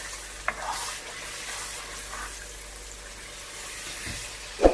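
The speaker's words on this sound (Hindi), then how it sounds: "एक दफ़ा अच्छे से इसको मिक्स कर लेंगे।" Beef kabab karahi being stirred in a wok, a steady soft sizzle of frying with light scraping, a sharper clatter near the start and a louder knock at the very end.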